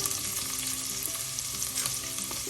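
Cauliflower thoran with chopped onion frying and being stirred in a pan, a steady bright sizzle with scraping stir strokes running underneath, close and continuous, no voices.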